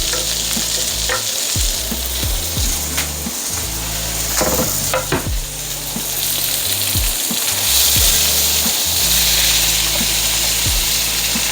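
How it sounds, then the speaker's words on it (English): Beef frying in oil in a wok, a loud steady sizzle with scraping and stirring clatters from a utensil at irregular intervals, close and continuous, with no talk. "You have your oil in the wok. Now what we're going to do is go ahead and cook the beef now."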